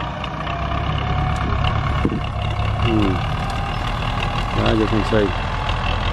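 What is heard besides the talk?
Belarus 800 tractor engine running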